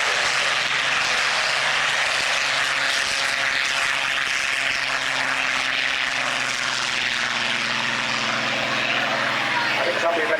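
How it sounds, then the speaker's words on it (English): A Spitfire flies past at an air show, its propeller engine droning steadily in the background under continuous commentary and nearby talk. "it's particularly interesting seeing him flying a Spitfire."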